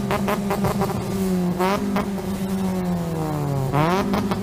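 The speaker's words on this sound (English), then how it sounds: "The Ricer thinks his old hatchback will go 300 kilometers per hour." An old hatchback in BeamNG accelerating hard: a loud, strained engine drone climbing steadily through the gears, with pitch drops at each shift and a rising whine near the end.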